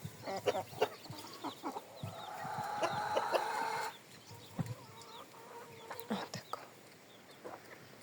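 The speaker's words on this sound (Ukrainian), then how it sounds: "Такі курчатка гарненькі." Small backyard hens and young chicks cluck and peep in soft, scattered bursts, with a steadier stretch of calling in the middle; fairly quiet and close, with no talking.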